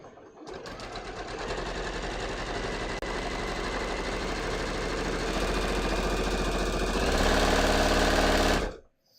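A sewing machine runs continuously, stay stitching along a bias-cut neckline on a V-neck dress in a fabric that frays easily; a steady close motor whir with rapid needle clatter, one brief pause, then a slight speed-up before stopping.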